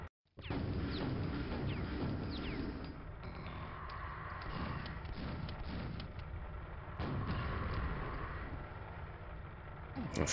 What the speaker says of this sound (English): Maybe I shouldn't use the rocket launcher in close proximity like that when I have no armor